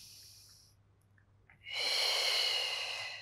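A slow, deep exhale during a Pilates hamstring stretch, a soft airy rush of breath that swells after a quiet pause and holds steady, close to the microphone.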